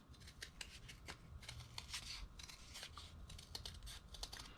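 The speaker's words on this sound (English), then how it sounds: "I am just going to be cutting inside of my outline to give myself a circle" Scissors snip steadily around the inside of a drawn outline to cut a paper circle, a quiet run of close, crisp cuts with soft rustling between them.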